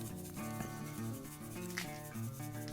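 Barbecue spice rub worked by hand onto raw pork belly, a continuous close scratchy rubbing and scraping over a faint musical background.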